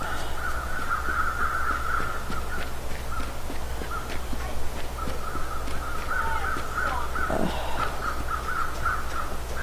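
Crows caw again and again along a long coastal highway, their harsh calls coming in steady bursts from a short distance over a constant low rumble of road noise.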